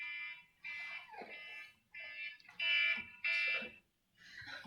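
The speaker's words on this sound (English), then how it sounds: "Is that the alarm for me to stop teaching?" An electronic alarm sounding in a lecture room, repeating shrill beeping tones in uneven bursts separated by brief gaps, loud and prominent with no talking over it.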